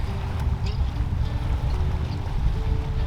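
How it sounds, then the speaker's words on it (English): Water slaps steadily against the rocky shore at Neds Point in Mattapoisett Harbor, a continuous close wash of lapping and splashing with wind noise beneath it. "Very rocky. Lots of slapping water."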